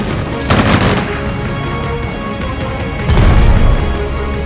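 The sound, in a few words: gunfire in the video game Strategic Mind: Fight for Dominance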